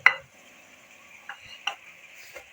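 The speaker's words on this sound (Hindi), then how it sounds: "और इन सारी चीज़ों को हम अच्छी तरह से मिक्स कर लेंगे।" Vegetables and spices being mixed in a bowl produce a few sharp, separate clinks and taps of a utensil against the dish, close and distinct over near silence.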